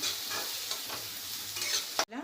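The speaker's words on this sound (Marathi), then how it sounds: "आपण कांदा घालूया कांदा व्यवस्थित परतून घेऊया" Onion sautéing and being stirred in a pan for a vegetarian home meal, a steady close sizzle with scraping stirs that cuts off abruptly near the end.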